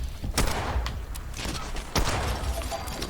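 Gunfire in the video game Fallout 76, a fast run of shots at close range with two sharper bursts standing out over a dense, steady background of game noise.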